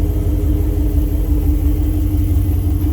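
A Dodge Pursuit all-wheel-drive car's engine runs steadily, a constant low rumble with a droning mid-range hum held at the same loud level throughout, with no voices.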